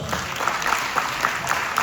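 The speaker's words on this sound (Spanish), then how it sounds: "Denle un aplauso a Dios." A church congregation claps during a Spanish-language service, a brief burst of steady applause with faint rhythmic accents from a few clappers, fairly close and without speech.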